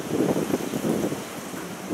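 Strong wind blusters outdoors on a grey, gusty day, buffeting the microphone in a steady rumbling roar that swells and eases over the whole stretch.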